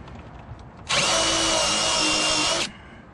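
A power drill with a dull countersink bit bores into leftover deck lumber, one steady loud whine lasting under two seconds that starts and stops abruptly over quiet room tone.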